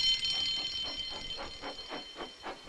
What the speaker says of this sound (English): Soon came the alarm.